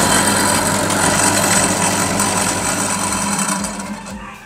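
A ceiling fan coil winding machine runs with a steady mechanical whir and hum, even and close, then winds down and stops near the end.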